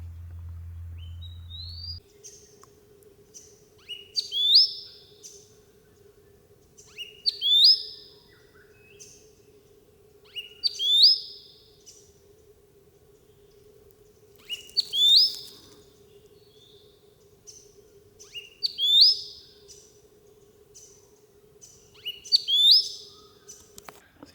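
Wild robins call in leaf litter in Victoria, Australia: clear, high chirping phrases recur every few seconds over a steady faint hum, close and alone with no talk.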